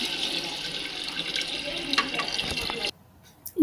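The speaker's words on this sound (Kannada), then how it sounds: "ನಾವೇನು ಕುದಿಸಿಟ್ಕೊಂಡಿದ್ವಲ್ಲ ನೀರು, ಅದನ್ನು ಪೂರ್ತಿ ಹಾಕೋಬೇಕು." Boiled water poured into a chicken biryani pot seasoned with turmeric, a steady close rush of liquid lasting almost three seconds before it stops short into near silence.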